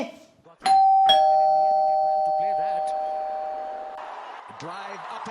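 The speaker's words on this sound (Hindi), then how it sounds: "कब से दरवाजे की घंटी बज रही है?" A doorbell rings twice in quick succession, two bright chime tones that ring out and slowly fade, with a voice speaking over the decay.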